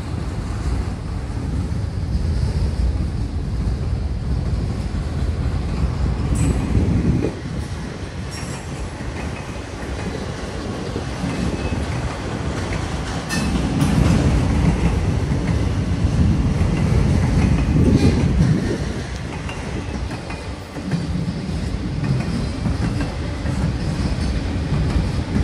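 A long freight train carrying loaded auto racks and tank cars rolls past at Voorheesville, a steady close rumble and clatter with surging peaks and wind buffeting the microphone.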